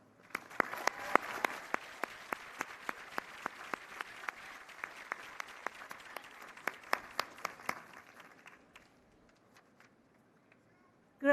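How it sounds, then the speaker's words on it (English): Audience applause at a 2023 commencement ceremony, a steady round of clapping from a large crowd for about eight seconds with sharp individual claps standing out, then fading away to near silence. "Please join me in a round of applause to acknowledge the family and friends who have helped bring you to this moment in your life."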